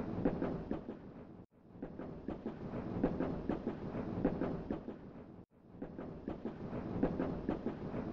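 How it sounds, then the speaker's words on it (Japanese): The phantom train from the horror video game Tales of the Black Forest runs with a steady, loud rolling rumble and a rhythmic clatter. Two brief sharp dropouts break the sound, and no one speaks. "幻影列車。"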